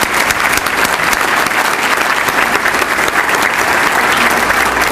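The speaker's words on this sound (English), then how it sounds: "So let's give them a round of applause." Sustained, dense audience applause for military and public safety officials at the Suffolk State of the City event, loud and steady throughout with no voices on top.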